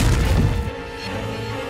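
A tank cannon fires in a war-film battle scene, a single heavy, close blast that drops off quickly into a low rumbling tail.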